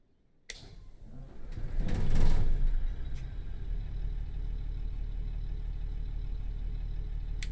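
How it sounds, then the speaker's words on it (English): Diesel engine of a CD 843 locomotive in Train Sim World 6 starting: a click, a rising cranking surge that catches, then a steady low loud idle rumble continuing to the end. "Now, hold the green start button until the engine starts."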